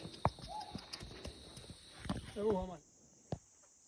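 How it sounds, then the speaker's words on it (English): Horse hooves clip-clopping on a mountain trail during an Annapurna Base Camp trek, scattered close hoofbeats and bells, with a brief voice sound in between. "Yeah, Izzy, I found you a horse"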